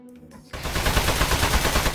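Gunfire in the video game Aperture Desk Job: after a brief quiet moment, a sudden loud, sustained burst of rapid shooting with a dense rattling texture that continues to the end.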